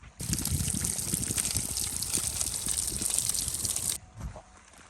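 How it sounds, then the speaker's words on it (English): Water runs off a mountainside in a loud, close, continuous gushing trickle that stops abruptly near the end, leaving quieter background noise, with no talk. "I've got all that water coming off of that mountainside right there."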